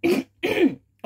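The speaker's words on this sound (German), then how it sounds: "Jetzt habe ich gehustet und genießt gleichzeitig." A person coughs and sneezes at once in three short, sharp bursts, with a quiet gap between each, loud and close to the microphone.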